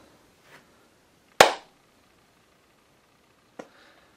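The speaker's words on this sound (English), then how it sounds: "Here is a single clap." A single sharp hand clap rings out once, crisp and fairly close, set between a couple of fainter incidental taps in an otherwise quiet room.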